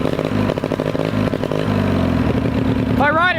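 A riding mower engine runs rich on a gasoline-soaked air filter, idling with a rough, lumpy mid-pitched chug up close that steadies and then briefly revs near the end.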